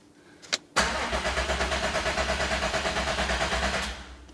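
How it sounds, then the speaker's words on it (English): A Subaru Levorg with a built H6 engine cranks on its starter with a rapid, rhythmic churning pulse for several seconds after a couple of short clicks, then winds down. "The engine's turning over."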